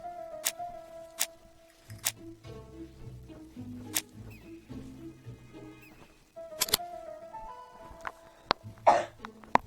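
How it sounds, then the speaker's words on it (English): A man's cough sounds a few times among sharp ticks, clicks and soft background music in a detective game, fairly close and brief. "Ah, my cough today."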